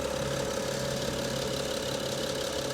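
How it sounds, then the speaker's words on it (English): Twin Power Turbo car engine at a salvage auction idles steadily, a faint, constant hum with a low drone and slight rough shake, heard alone without talk. "the engine. Here we go. Twin power turbo."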